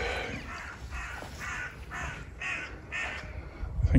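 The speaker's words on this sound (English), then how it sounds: "Thank you, Mr. Crow." A crow caws repeatedly outdoors beside a country road ford, about six harsh, evenly spaced calls at moderate distance, with a rustling bump at the very end.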